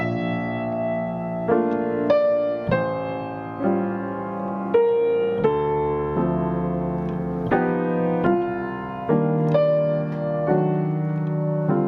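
Solo piano plays a slow jazz progression, each low bass note struck just ahead of a fuller chord, in a relaxed, repeating pattern.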